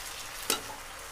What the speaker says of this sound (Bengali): পালং শাকটা দিয়ে দিয়েছি, দিয়ে আমি একটু কষিয়ে নেব।